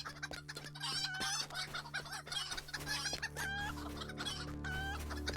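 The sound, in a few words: chickens clucking in a video game, Lord of the Rings Online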